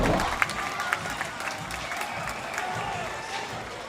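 A crowd at Cliff Keen Arena cheers and applauds during a Penn State at Michigan men's gymnastics meet, a dense, steady roar of clapping and cheers with a few sharper claps, lasting throughout and easing slightly toward the end.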